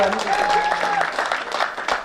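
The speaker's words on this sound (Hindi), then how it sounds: "एक बार ताली बजा दो साहब" An audience at a Hindi poetry recital breaks into applause, a lively patter of clapping with a voice talking over it and a brief sustained vocal tone near the start.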